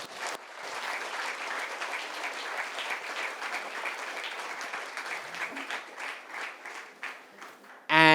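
Audience applause at the close of a book session at a literature festival, sustained clapping from a crowd for several seconds before it stops abruptly.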